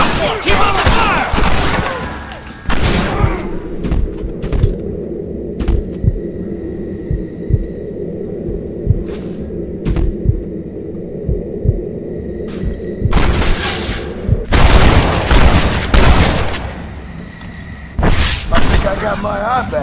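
Gunfire in a Red Dead Redemption shootout: loud sharp shots in scattered bursts, some clustered and some isolated, over a low steady hum, with voices shouting in between.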